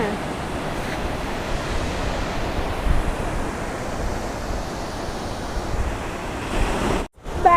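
Sea waves wash in a constant roar on a coast near a lighthouse, mixed with wind buffeting the microphone, then a brief cutout near the end.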